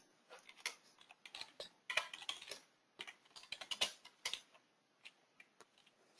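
A computer keyboard clatters with quick irregular bursts of key presses while someone tabs through form fields in accounting software, soft close clicks separated by short pauses, with no voices.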